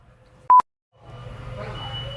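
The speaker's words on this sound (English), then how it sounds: "You will hear beeping and lots of noise." A single short electronic beep sounds sharply in a warehouse, followed by a brief silence and then a low mechanical rumble of equipment.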